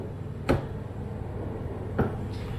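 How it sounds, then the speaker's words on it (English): A desk's pull-out drawer in a Days Inn hotel room in Carlsbad, New Mexico, bumps twice, with two short knocks about a second and a half apart over a steady room hum. "we have the desk with a pull-out drawer"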